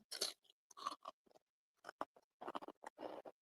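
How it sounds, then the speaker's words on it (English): Crunching and chewing of burnt toast close to the mic, a run of short dry bursts with brief pauses between them, alone in an otherwise quiet room. "I don't know if y'all can hear me crunch on something."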